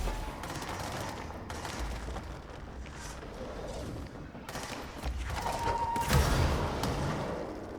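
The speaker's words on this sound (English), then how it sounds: "Stop shooting your friend, eh?" Dense, continuous gunfire from the video game Control, a steady rattle of shots and thuds filling the whole stretch, growing louder toward the end, with no voices over it.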